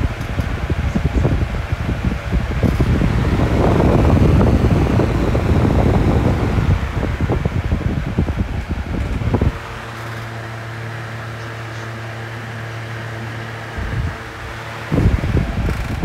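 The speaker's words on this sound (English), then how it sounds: "Arctic Wind at full power." An 11-inch ArcticWind box fan runs at full power, a steady whooshing airflow with broadband rush, which drops partway through to a quieter, even hum with a low motor drone.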